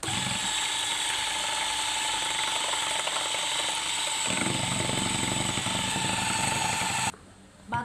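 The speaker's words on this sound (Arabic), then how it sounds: "نضرب دلوقتي بقى البيض" An electric mixer beats eggs for a chocolate cake batter, a loud, steady motor whir with rattling, grinding texture close by, shifting tone partway through before cutting off abruptly near the end.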